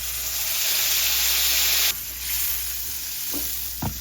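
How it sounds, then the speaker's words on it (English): Tomatoes frying in a pan for spaghetti sauce, giving a loud, steady, close hiss of sizzling that drops abruptly partway through and then continues more softly, with a couple of faint knocks near the end. "Now let's stir. I'll allow it to fry for 3 minutes"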